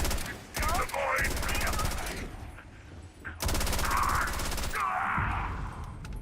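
Rapid rifle gunfire from the video game Avowed crackles in two long sustained bursts, close and loud, separated by a brief lull, with mechanical clatter mixed into the shots.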